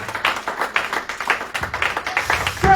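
Audience applause in a church service, uneven rhythmic clapping from a congregation, close and fairly loud, with distinct individual claps rising and falling over nearly three seconds.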